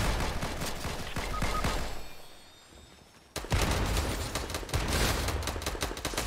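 Shotgun fire in Fortnite, dense rapid blasts that cut out to a quieter gap for about a second, then a loud shot resumes the heavy, close barrage.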